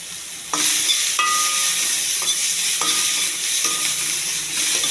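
Finely chopped onions with cumin, green chillies and curry leaves sizzle steadily in a little oil, with a stirring scrape repeating every second or so, close and continuous.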